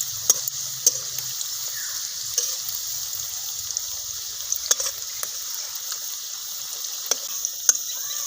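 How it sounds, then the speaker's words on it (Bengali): Poppy seed and coriander leaf fritters fry over low heat in a pan, a steady bright sizzle broken by occasional sharp clicks and taps of a utensil, with no talk. "সবগুলো দিয়ে দিলাম অল্প আঁচে ভেজে নেব"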